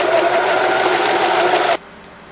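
A sewing machine stitches a tarp with a short stitch in a continuous, loud mechanical whir. The run lasts most of the moment and then stops abruptly, leaving near silence.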